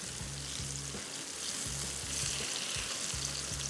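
Hyderabadi shami kebabs fry in a pan with a steady, close sizzle, and the sizzling runs on while they are turned over one by one, over a repeating low mechanical hum.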